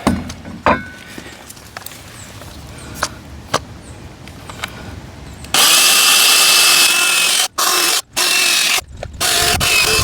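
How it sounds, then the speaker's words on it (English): A power drill bores mounting holes for a Vevor retractable garden hose reel. After a quiet stretch of small clicks it starts loud and close, running steadily for several seconds with a few brief stops. "So now I can drill in."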